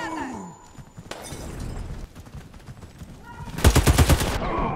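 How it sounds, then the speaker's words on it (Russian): Gunfire in the shooter Warface during a ranked PvP match, a sharp rapid burst of automatic shots near the end, preceded by scattered softer impacts and game noise. "я стреляю в упор"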